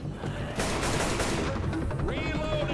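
Rapid bursts of gunfire from Left 4 Dead co-op play, a dense fusillade that stays loud and continuous throughout, with faint talk mixed in.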